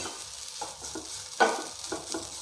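Grated coconut roasting in a little coconut oil over a low flame, a soft steady sizzle with scraping stirs and one louder clatter midway, close by with no voices.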